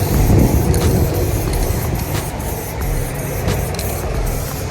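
Aerosol spray paint can hissing in a steady, continuous rush for several seconds, close and moderately loud, with faint background noise and no talking.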